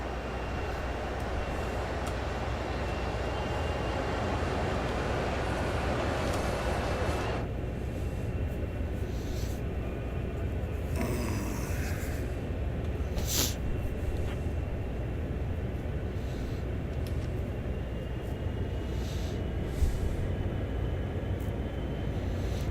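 A CSX intermodal freight train in a rail simulator game, heading toward Sandpatch, gives a steady, loud rumble throughout, with brief higher noises partway through.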